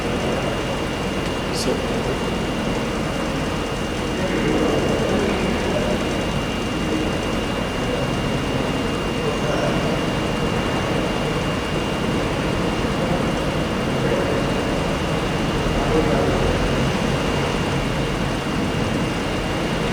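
Gyroscope apparatus motor spinning steadily at about 500 RPM gives a loud, continuous whirring hum that holds level throughout, with a faint steady tone on top and a person briefly speaking.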